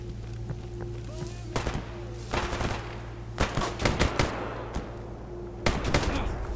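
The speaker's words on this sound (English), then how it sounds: "Are they shooting at me?" Bandits fire guns at the player in STALKER GAMMA, with sharp shots breaking out in scattered bursts and short volleys over a steady low hum and faint background noise.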